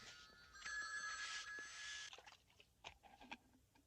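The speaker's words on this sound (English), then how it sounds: "Hey, phones. Why are they all ringing?" A telephone bell rings in a short burst, faint and somewhat distant, followed by scattered quiet clicks and room noise; from John Carpenter's film The Fog.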